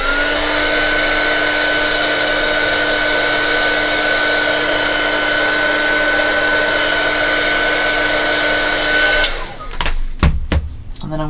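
A hair dryer blows a steady, loud whine over mixed media artwork with painted letters, running continuously for about nine seconds before cutting off into a few clattering handling noises.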